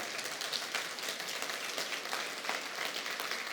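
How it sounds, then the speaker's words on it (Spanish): A church congregation applauding the Lord during a Spanish-language sermon, a steady, fairly faint wash of clapping that holds evenly throughout with no voices over it. "Denle un aplauso al Señor, hermano"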